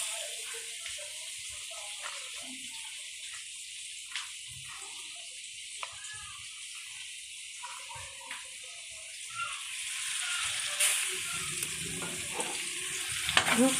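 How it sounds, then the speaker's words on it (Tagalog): Tomato, onion and garlic sautéing in a pan for butter mung beans with mixed vegetables, a steady sizzle with occasional spoon scrapes, growing louder and busier toward the end. "Nandito na po yung ating kamatis, sibuyas at bawang. Ginigisa na po natin mga kaguro."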